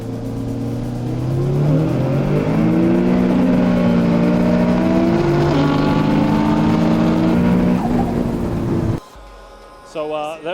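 A Nissan GT-R R35 races around Queensland Raceway, its engine heard loud and close from inside, climbing through rising revs with gear-change drops, before cutting off abruptly to quieter sounds and brief speech.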